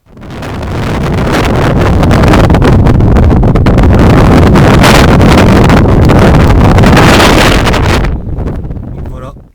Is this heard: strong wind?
yes